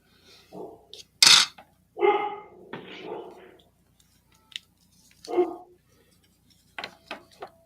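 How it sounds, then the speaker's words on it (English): A dog barks in short, separate bursts, a few sharp woofs spread out with quiet gaps, fairly close and alone, apparently reacting to something in a backyard. "My dog's after something."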